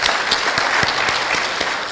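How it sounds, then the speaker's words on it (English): Audience at a formal diaspora affairs event in Kenya gives a round of applause, a dense, sustained patter of many hands clapping with a few sharper individual claps standing out, steady throughout. "Could we please give them a round of applause?"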